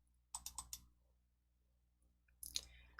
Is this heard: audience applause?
no